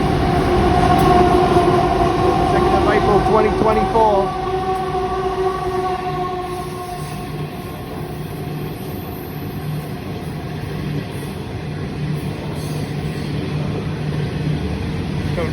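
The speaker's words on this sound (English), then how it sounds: "Freight train, Southern Shorthaul Railroad coming through." Southern Shorthaul Railroad coal freight train passing through Parramatta Station in Sydney, a long loud rumble of rolling wagons with a brief horn-like tone early on, then a steady grinding roll.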